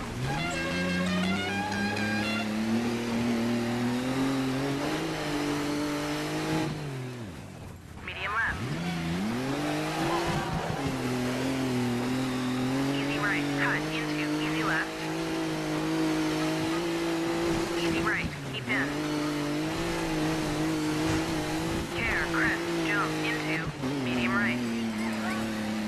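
Rally car engines roar and rev continuously in a DiRT Norway rally stage, with shifting pitch, a brief dip as a car passes, and tire noise, while a voice talks over the engine.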